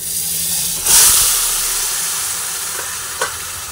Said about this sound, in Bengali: কচুর শাকটা দিয়ে দিলাম, তারপরে একটু ভালোভাবে নাড়াচাড়া করে নিচ্ছি